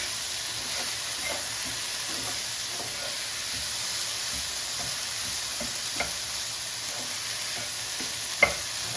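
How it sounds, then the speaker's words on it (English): Onions, garlic and black garlic fry in a pan with a steady low sizzle and hiss, broken by soft intermittent scrapes of stirring and one sharper knock near the end, heard up close with no talking. "So the onions have been cooking now for about 2 minutes, and I'm just going to add the garlic and the black garlic."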